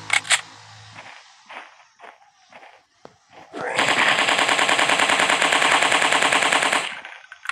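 Rapid automatic gunfire in the Dino Hunting Simulator hunting game on Android, a loud sustained burst of about three seconds after quieter footsteps and clicks.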